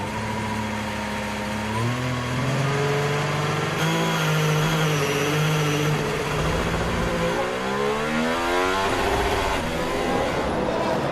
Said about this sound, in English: Once the field was released to go racing, Hamilton accelerated away from Ricciardo, Räikkönen, Verstappen